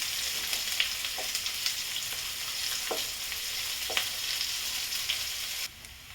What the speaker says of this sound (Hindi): प्याज को मैं अच्छी तरह भून ली हूँ